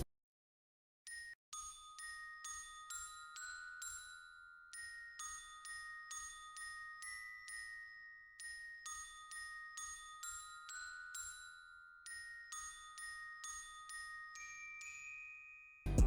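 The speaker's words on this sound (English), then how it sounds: "we got the glockenspiel from it, and it sounds like this." A sampled orchestral glockenspiel from a BBC orchestra software plugin plays a quiet, bright melody for a soul sample. Clear bell-like metal notes come in quick runs with short pauses between phrases, and a sustained lower tone rings beneath them.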